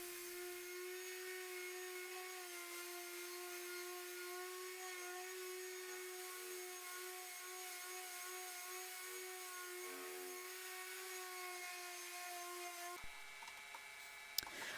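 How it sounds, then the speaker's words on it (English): A flat sander smoothing wooden drawers, giving a steady high-pitched electric whine with a constant tone that runs for about thirteen seconds before cutting off abruptly, heard alone with no talk. "And then with the flat sander, sanded that nice and smooth."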